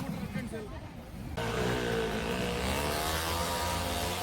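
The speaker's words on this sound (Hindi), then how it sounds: "ये लोग कितनी हिम्मत से बाइक्स और कार्स को इस गोल दीवार पर चला रहे हैं।" Cars and motorbikes race around the round wooden wall of a wall-of-death show at a Hyderabad mela. Engines roar loudly and continuously, with rising revving tones that swell over crowd noise and voices.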